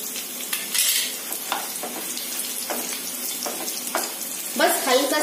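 Garlic and red chili stirred in a pan for a chutney, with a steady sizzle under several scraping strokes of a spoon and a louder stir near the end; no one speaks.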